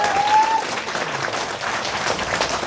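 An audience claps together in sustained, dense applause that holds steady for a few seconds.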